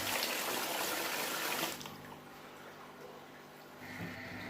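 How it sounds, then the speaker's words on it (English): Water pouring from a tap into a basin for washing a speaker grill, a loud rushing stream for under two seconds, then a fainter trickle and splashing that picks up again near the end. "Fill a basin with some water."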